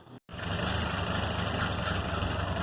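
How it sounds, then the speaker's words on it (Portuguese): A Chevrolet Opala engine idles with a faint abnormal noise from a leaking exhaust gasket, heard close up as a steady rumbling drone after a short gap at the start, with no talking. "Eu vou funcionar ele aqui, vou gravar o barulho"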